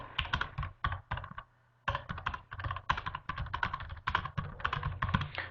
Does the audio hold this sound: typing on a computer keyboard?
yes